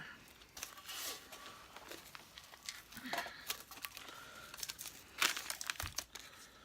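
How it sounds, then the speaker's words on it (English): Masking tape peeled off a freshly resprayed Hoover Junior 1334 vacuum cleaner, giving close, dry crinkling and tearing bursts in an irregular run of short rips with no talk. "So what I'm going to do now is remove the masking tape."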